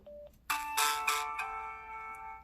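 A Motorola W385 flip phone plays its ringtone through its small built-in speaker, a few bright electronic tones that ring out and then hold a sustained chime, close and fairly loud, with no talk.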